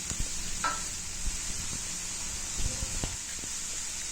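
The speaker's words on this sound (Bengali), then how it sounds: "সবজিগুলি আমার মোটামুটি ভাজা হয়ে গেছে" Steady sizzling of broccoli, potato and carrot frying in a pan, with occasional scrapes and clinks of stirring close by; no one speaks.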